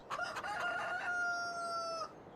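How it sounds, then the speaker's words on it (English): A rooster in a Farming Simulator mobile game crows once with a stuttering start and then a long, held, tonal call that cuts off after about two seconds, heard fairly clearly and alone. "I can hear chickens."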